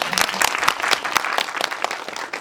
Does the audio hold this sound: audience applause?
yes